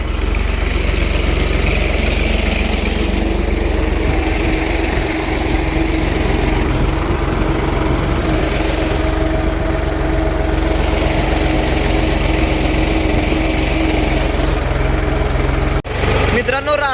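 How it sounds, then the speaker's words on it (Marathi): A tractor engine runs steadily in a field in autopilot mode, a loud, continuous low rumble with a knocking diesel character that holds throughout and cuts off sharply near the end. "ट्रॅक्टरला ऑटो पायलट मोड पण उपलब्ध आहे बघा."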